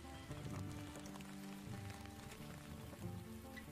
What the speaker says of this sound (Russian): Так, опять дождик начался.